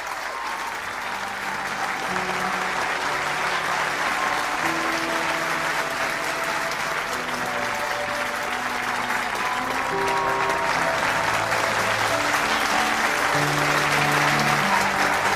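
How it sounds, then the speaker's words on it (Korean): Sustained applause from a large crowd at a mass rally and religious hope event, with steady dense clapping throughout and background music tones underneath. "여러분 다시 한번 큰 감사의 박수를 올려주시면 좋겠습니다."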